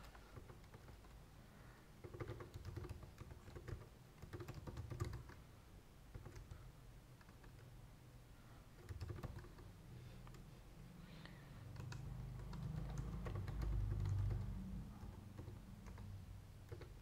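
Steady, quiet typing on a computer keyboard, with rapid light key clicks coming in bursts and short pauses while a registration form is filled in.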